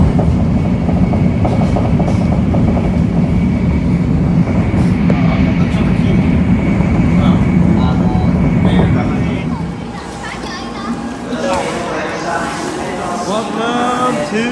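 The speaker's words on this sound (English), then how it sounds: "It's a bullet train." A Japanese bullet train runs between Tokyo and Osaka at about 100 miles per hour, giving a loud, steady rumble and rush with rhythmic clatter inside the car. The roar eases slightly toward the end, and voices talk faintly underneath.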